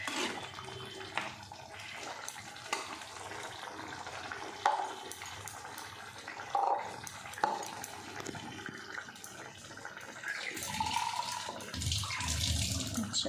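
Water runs and splashes into a pan holding carrots and potatoes, a soft, steady pour with a few small splashes, fairly quiet throughout.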